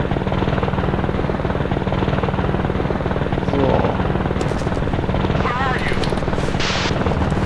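In the video game Operation Flashpoint, a helicopter's rotor produces a continuous loud, rhythmic thumping drone that stays steady throughout, with brief bursts of other game effects and a voice speaking over it.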